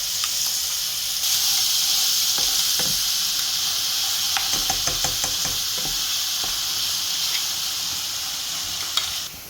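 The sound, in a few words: crushed ginger and garlic with asafoetida sizzling in hot oil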